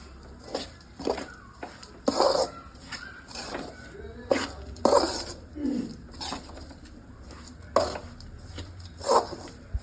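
A gond ladoo mixture of dates, coconut and dry fruits fries in ghee in a pan while a spoon stirs it, making repeated scraping strokes at an uneven rhythm over a low, steady background.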